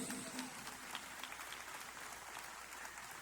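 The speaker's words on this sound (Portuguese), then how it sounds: "aplauda Jesus por isso" A church congregation applauds during a service: steady, dense clapping from many hands that holds for the whole stretch, fairly faint and distant, with no talking over it.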